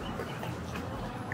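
A chicken clucks softly at a distance, a few low, muffled clucks over steady outdoor background noise.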